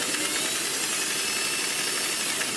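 A sewing machine stitches piping onto a duvet cover, producing a steady, continuous mechanical whir close by that runs unbroken from start to finish with no talking.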